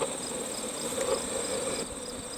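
Honeybees buzzing around beehives on a fen, a steady high insect drone with a faint, constant hum beneath it, moderately quiet and continuous, with no speech.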